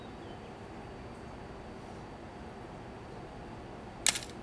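A Canon A-1 film camera fires its shutter once near the end, a sharp close mechanical click with a brief rattle after it, following several seconds of quiet room noise.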